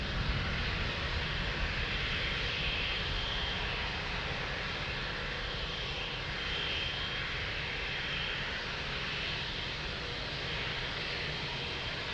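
Jet airliner taking off from runway 02 at Lisbon Airport, a steady, distant, broadband engine roar with a faint whine that holds for about twelve seconds, with no voices over it.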